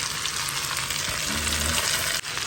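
Chopped cabbage fries in a pan for halusky, a loud, steady sizzle and crackle that runs unbroken throughout, with a brief stir or scrape partway through.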